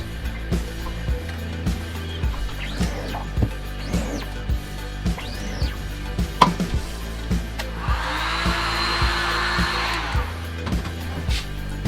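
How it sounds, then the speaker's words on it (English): A heat gun blows hot air over freshly printed screen-printing ink in a small shop, a steady hissing whoosh running for a few seconds among repeated soft thumps and background hum. "Man, that heat gun's pretty good. It dried the ink real fast."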